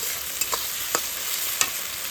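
Sliced onions fry in hot oil with a continuous bright sizzle while a utensil stirs them, leaving a few sharp scraping clicks against the pan. No one speaks.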